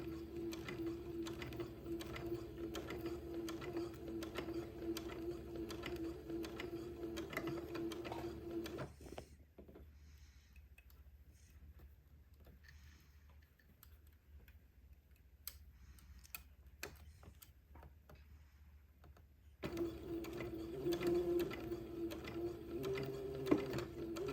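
A sewing machine sews around the crown of an old-fashioned baby bonnet, a rapid, even ticking stitch running close and steady, pausing for a quieter stretch of handling, then resuming.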